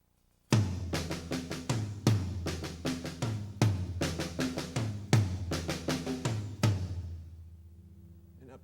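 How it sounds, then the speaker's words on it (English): Drum kit groove with the accented single notes struck on the toms and doubled notes played on the snare drum, starting abruptly, loud and close in a repeating pattern for about six seconds, then decaying. "put the accented notes, which aren't doubled, on the toms and leave the double notes on the snare drum."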